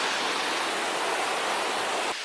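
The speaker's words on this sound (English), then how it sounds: "then you have that double waterfall" Double waterfall at Wangari Falls in Litchfield Park, a steady, loud broadband rush of falling water that fills the whole stretch without a break, with a slight drop in level at the very end.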